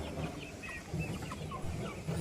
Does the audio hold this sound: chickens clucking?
yes